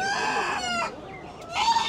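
Chickens clucking and squawking in crowded cages at an open-air market in Portugal, alongside pigeons, rabbits and ducklings, busy and close with overlapping calls.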